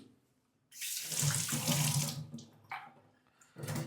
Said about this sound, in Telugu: దీంట్లో పావు గ్లాస్ వరకు వాటర్ దీంట్లో యాడ్ చేసుకుంటున్నాను